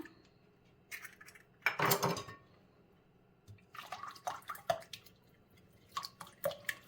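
Cookie dough ingredients, melted butter, sugar, egg and homemade sour cream, mixed in a bowl, with scattered clinks and scrapes of a utensil against the bowl, one louder clatter, then a run of quick taps.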